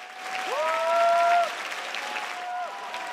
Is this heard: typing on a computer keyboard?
no